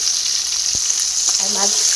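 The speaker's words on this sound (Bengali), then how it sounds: "আর মাছগুলোকে খুব সুন্দর করে ভাজা হচ্ছে লাল লাল করে একদম" Small pieces of pangas fish frying in hot oil in a pan, a loud close continuous sizzle with a faint tap or two, heard alone.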